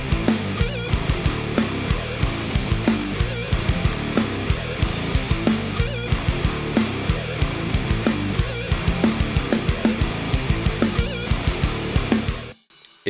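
Full metal mix of pounding drums with driven, amped bass layered over clean DI bass, dense and loud with steady hits throughout, cutting off abruptly near the end.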